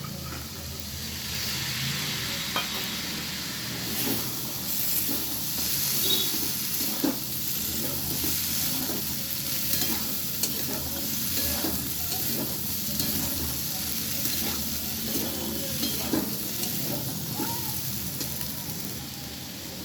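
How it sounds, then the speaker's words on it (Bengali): Boiled chickpeas fry in a pan while being stirred, a continuous close sizzle broken by scraping spoon strokes throughout, with no talking. "সেদ্ধ করে রাখা ছোলাগুলো আমি দিয়ে দিলাম।"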